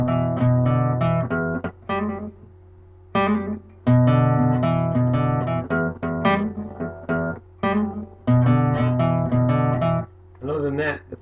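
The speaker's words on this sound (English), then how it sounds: "On the second verse, it sounds like there's a delay on the trill" Acoustic guitar playing a trill with a delay effect: rapid alternating picked notes in repeated bursts, with short gaps, then a chord strummed, close and fairly loud.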